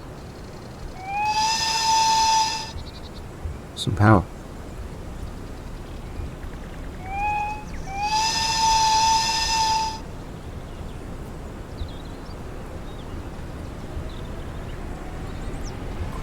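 An ÖBB 1020 Krokodil electric locomotive on the Mittenwaldbahn in Train Sim World 5 sounds two long, loud two-tone horn blasts, with a sharp clunk between them and a low hiss and rumble of the engine underneath; a voice speaks briefly.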